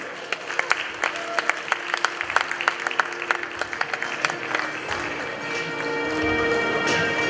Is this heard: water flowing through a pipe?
no